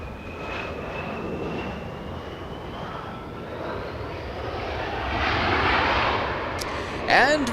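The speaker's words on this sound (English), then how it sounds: "This one an arrival, Air Tahiti Nui 7 flying in from Paris, an arrival on 25 left" An Air Tahiti Nui airliner from Paris comes in to land on runway 25 left at Los Angeles International, its engines making a broad roar with a faint rising whine that swells louder partway through while someone talks.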